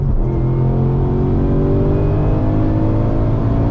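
A Ford Mustang S550 (2015) engine screaming at high revs in third gear, a loud, sustained, close-up roar that holds steady throughout with no talking.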